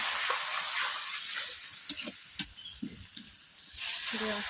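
Potatoes frying in a pan for a paneer curry sizzle steadily as a little water goes in, with a few sharp clacks of stirring and a louder hiss swelling near the end.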